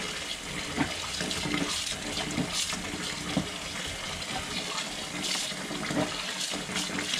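Sticky rice being rinsed and swished in water to wash off the slimy starch, a continuous close splashing and trickling with periodic sloshes, no voices.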